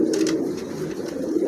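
Pigeons coo close by in soft, repeated low throaty calls, steady and fairly loud, among birds kept for sale in a pigeon showroom.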